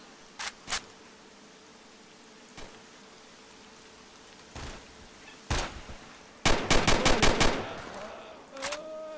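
Gunfire in the game STALKER: Shadow of Chernobyl, with scattered single shots early on building to a rapid burst of automatic fire, then a final shot and a fading ringing tail.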